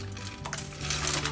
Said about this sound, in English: so I'm going to add a little bit of ice.